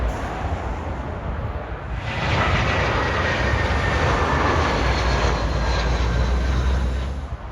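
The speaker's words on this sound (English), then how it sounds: "Boeing 777-200, I think." A Boeing 777-200 airliner passes overhead near Heathrow Airport, a steady loud jet roar that swells after the first two seconds and holds broad and continuous, with no talking.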